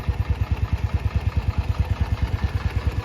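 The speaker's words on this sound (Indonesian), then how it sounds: "Jadi getaran mesinnya kiri kanan seperti ini." A 1966 Marusho Magnum 500cc motorcycle engine idles on its centre stand, a steady loud low-pitched pulsing thump with an even, rapid beat and mechanical clatter throughout, close by and alone.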